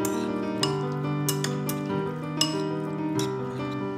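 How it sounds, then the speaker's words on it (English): A utensil stirring olive oil with capers and lemon in a dish, soft scraping and several light clinks against the bowl at irregular intervals, close and fairly quiet with no talking. "So here's some olive oil. You just kind of stir that up a little"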